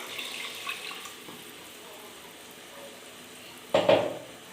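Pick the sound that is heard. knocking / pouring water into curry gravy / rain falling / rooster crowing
pouring water into curry gravy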